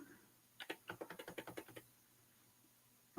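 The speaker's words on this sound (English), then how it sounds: "a pixel at a time, just using the keyboard keys." Computer keyboard keys are pressed in a quick burst of about a dozen close, crisp taps, followed by near silence and one louder knock at the very end.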